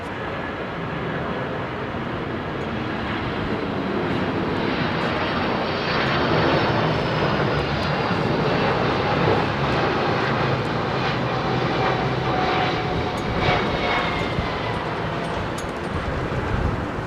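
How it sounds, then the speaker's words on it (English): A DHL Airbus A300 at a windy Heathrow Airport gives a steady, loud jet engine roar with a whining tone, continuous throughout with wind buffeting the microphone and no talk. "DHL A300. Now officially the oldest aircraft on the ramp."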